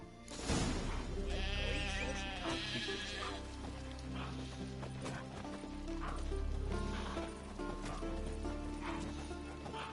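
Sheep and goats bleat amid a busy video game soundscape from The Witcher 3, with steady background music and ambient effects throughout.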